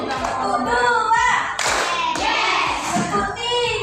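Children in a classroom clapping hands together in a counting clap game, several sharp rhythmic claps close by, mixed with a teacher's voice and children talking.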